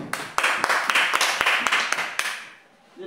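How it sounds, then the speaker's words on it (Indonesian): Children in a classroom clapping hands together, a run of about a dozen sharp group claps in a quick steady rhythm, fading out at the end. "Tepuk tangan dulu."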